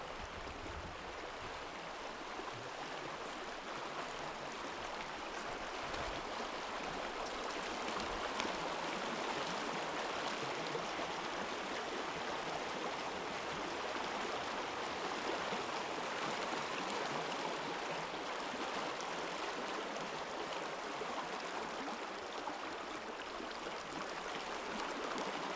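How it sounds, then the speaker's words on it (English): Stream water flowing among rocks outdoors, a soft, constant hiss and gurgle that stays even for the whole stretch with no voices. "see if we can get some good water sounds to record"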